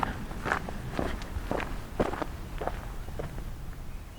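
Footsteps walk steadily outdoors, a crunching step roughly every half second, close by, with faint ambient background and no talking.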